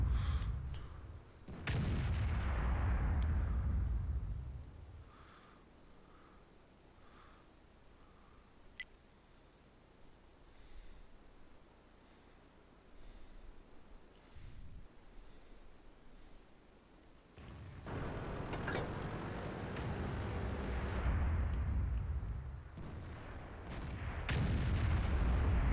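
Tank cannon shots in World of Tanks, with a Type 61 tank nearby, heavy booming blasts with long rumbling tails, one early and another near the end, separated by a quieter stretch of engine-like hum.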